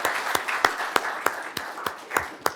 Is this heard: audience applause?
yes